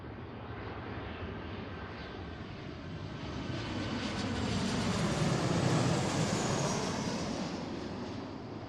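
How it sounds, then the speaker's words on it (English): A Delta Air Lines Boeing 737-800 lands at Seattle, its jet engines a broad, steady roar that swells toward the middle as it passes, then eases slightly, heard alone without talk. "from San Diego, this is a 737-800. Delta Airlines."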